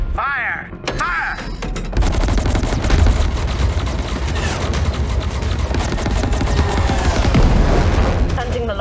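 Dense gunfire fills a space battle in the video game Chorus: rapid bursts and heavy booms pile up over mechanical whirs and electronic sweeps, with game dialogue mixed into the noise.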